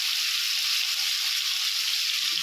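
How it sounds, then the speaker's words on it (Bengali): Potatoes fry in hot oil in a wok with a steady, dense hiss and sizzle, continuous and close, with no talking over it. "এই আলু ভেজে দিচ্ছি, আলুটা ভাজা হচ্ছে"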